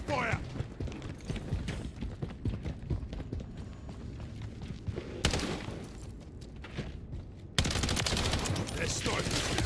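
Modern Warfare III multiplayer firefight with bursts of gunfire and mechanical clatter, loud sharp volleys mixed with background game noise and a voice speaking between shots.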